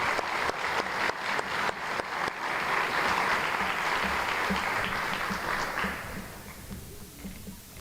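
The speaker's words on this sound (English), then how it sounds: "can we give those ladies and gentlemen one big round of applause?" Banquet audience at a university alumni dinner breaks into applause, opening with a few sharp individual claps before swelling into sustained, fairly loud clapping that thins and fades toward the end, with faint voices underneath.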